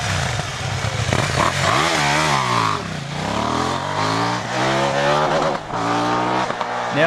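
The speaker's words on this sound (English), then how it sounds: "we're gonna do a bit of a test launch and see how we go" A KTM 790 Duke motorcycle makes a test launch, its engine rising through rapid high revs with repeated climbs and dips as gears change, loud and close throughout.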